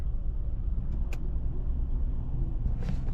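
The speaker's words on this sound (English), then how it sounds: "stuck in the traffic." Cars idle and creep along a jammed highway on a road trip from Fort Lauderdale to Jacksonville, a steady low rumble of engines and road noise close around, with a brief faint clink partway through and no talking.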